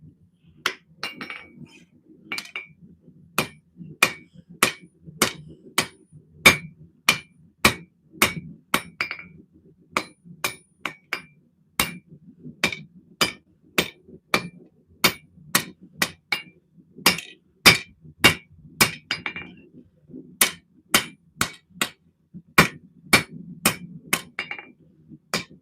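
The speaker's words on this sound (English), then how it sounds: "We switch hammers for the big steel." A blacksmith's hammer strikes big steel in a forge shop, dozens of sharp ringing blows in steady bursts with short pauses between runs, loud and close.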